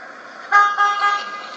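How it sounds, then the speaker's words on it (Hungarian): A car horn honks close and loud, a steady blare that swells after a faint start and holds for about a second before easing off. "Mit dudálsz?"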